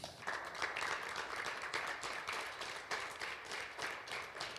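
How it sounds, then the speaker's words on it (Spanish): Church congregation applauding during a Sunday service, a steady dense wash of many hands clapping at moderate distance for several seconds, fairly quiet with no talk over it. "Dale un aplauso al Señor."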